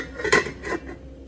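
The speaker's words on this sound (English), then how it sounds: "I'll put my lid back on." A lid is set back onto a pot of homemade chicken vegetable soup, giving a short metallic clatter and a second lighter clink, close and alone.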